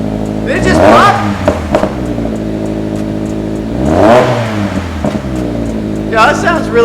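A 2021 Subaru Crosstrek with an aftermarket exhaust revs hard twice, rising and falling with a deep rumble that ends in a pop. A third rev starts near the end, and people talk and react in the background.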